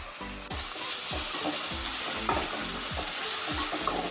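Onion and tomato frying in a pan for a chicken and potato curry make a loud, continuous sizzle. Scraping stirs from a utensil recur at a regular pace, and no voices are heard.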